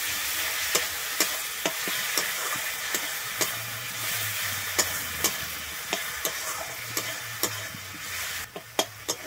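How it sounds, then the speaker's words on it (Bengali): Whisked yogurt being stirred into frying masala for palak paneer, a steady close sizzle with a spoon scraping the pan in regular sharp clicks throughout, alone with no talk. "আমি দইটা দিয়ে এখানে খুব ভালোভাবে মিশিয়ে নিচ্ছি"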